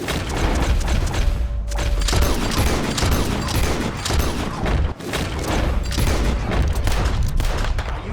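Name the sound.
gunfire in video game Red Dead Redemption 2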